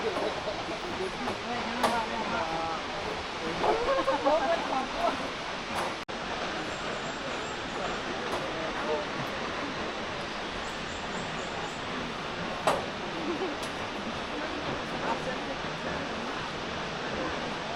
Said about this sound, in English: I'll be visiting waterfalls just like this one across southern Laos